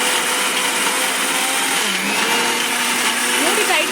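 A mixer grinder whirring through mint and coriander chutney, a steady loud motor whine that holds throughout, with a slight shift in pitch midway.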